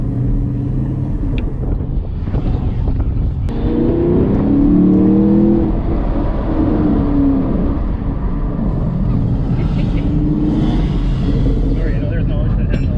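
Chevrolet Camaro SS 1LE engine droning steadily from inside the cabin while driving, a low continuous rumble with brief rising revs, and people talking over it.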